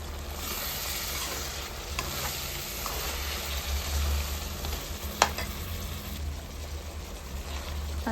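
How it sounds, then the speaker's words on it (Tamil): A chicken and pumpkin masala curry gets a light stir in a sizzling pan, with soft scraping over a steady frying hiss and one sharp clink partway through, close and fairly quiet. "லைட்டாக ஒரு கிண்டி விடலாம்."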